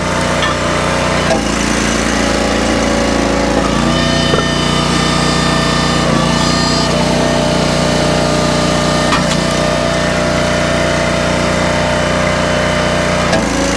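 Small engine on a log splitter running on a cold morning, a loud continuous drone with faint mechanical knocks, close by and unbroken throughout.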